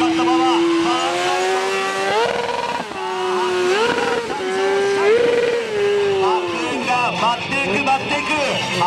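A motorcycle doing wheelie circle stunts in a driving school lot, its engine revving loud and steady with pitch rising and falling as it circles, tire noise underneath and a voice commentating over it.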